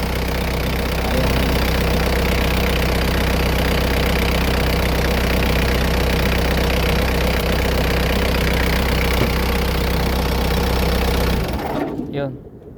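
A Toyota forklift engine idles steadily with a rough, knocking chug for several seconds, its alternator not charging, then cuts out abruptly near the end.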